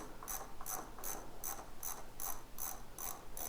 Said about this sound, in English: go ahead and finish removing your countershaft sprocket